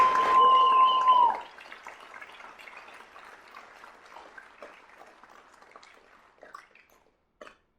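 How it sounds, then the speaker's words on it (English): An audience at a Bellarmine Hall of Fame induction ceremony gives a final round of applause. A loud sustained tone opens it, then scattered clapping thins out and fades away, with a few last claps near the end. "How about we have one final round of applause for our newest Bellarmine Hall of Fame"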